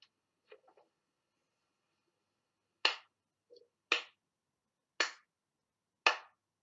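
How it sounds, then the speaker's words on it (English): A lone person claps four times, sharp and well spaced, close to the microphone in a quiet podcast room, with a few faint small knocks before the claps. "Is that a sarcastic clap or a good clap?"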